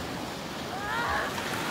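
Ocean waves crashing near a beach in Kona, a steady close wash of surf with wind noise and a slight swell in the middle.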